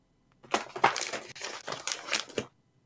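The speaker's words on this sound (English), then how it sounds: "That paper moving is so loud." Paper rustles and crinkles close up in several bursts as it is moved and handled during a tabletop role-playing game session, with brief crackling rushes and a few short pauses between them.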